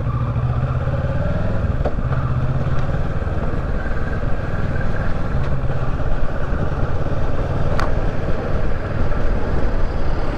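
A 2018 Kawasaki Versys 650 ABS Tourer motorcycle drones steadily while being ridden, its engine hum loud and close with constant wind rush and occasional rattles.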